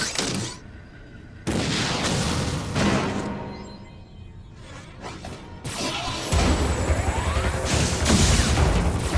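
In the Metroid Other M video game, a missile launches with whooshes and crashing, booming impacts, followed by rumbling explosions and debris over a loud, busy game soundscape.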